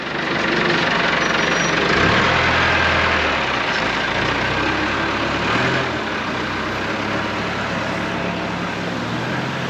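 Aircraft tug engine running inside a hangar with an F-4 Phantom, a loud steady low rumble and drone that eases slightly partway through.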